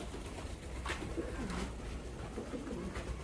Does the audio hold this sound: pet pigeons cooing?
yes